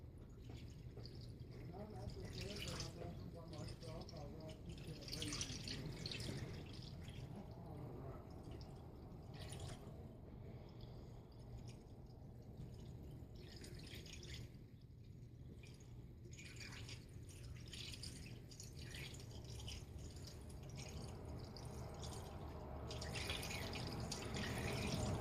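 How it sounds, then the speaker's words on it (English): Air bubbles gurgling and dripping out of the coolant system of a 2008 Honda Element EX during a drain and fill, a steady watery trickle with irregular bubbling that runs continuously under occasional nearby talk. "You hear all the air bubbles coming out."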